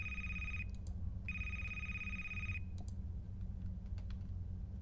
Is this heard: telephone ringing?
yes